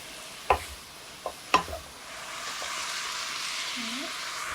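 Food stir-fried in a pan with salt seasoning gives a faint, steady sizzle, broken by a few sharp clicks of a utensil against the pan.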